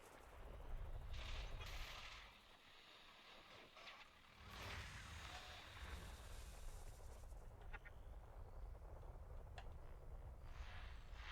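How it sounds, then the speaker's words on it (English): Spaceship weapons fire in Elite: Dangerous as a faint, muffled series of booming bursts and rumbling blasts over a low engine drone, with a few sharp clicks and no talking. "Weapons fire."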